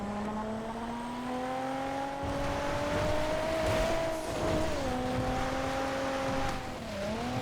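A Surfer van racing in GTA FiveM, its engine a steady strained drone that climbs slowly in pitch, dips at each gear change and keeps going without a break, loud and constant, with no talking.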